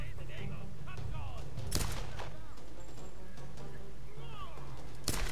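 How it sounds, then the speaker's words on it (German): Two sharp gunshots ring out in the Tomb Raider video game, one near the start and one near the end, over a low game soundtrack with a voice talking throughout. "Schuss, yes."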